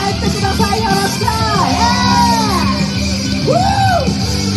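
Concert crowd at the Himeji BETA live house yells, whoops and cheers loudly over a constant roar, with rising and falling shouted voices overlapping throughout.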